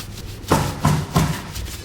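Wipes rub dirt and grease off a Honda Pilot rear brake light unit in three close, firm scrubbing strokes at an even pace, with no talking.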